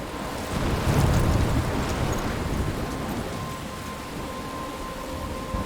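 Rain and a thunderstorm in Life Is Strange: a steady, moderate wash of rain with a low rumble swelling early and then settling into a continuous storm bed, with no voices.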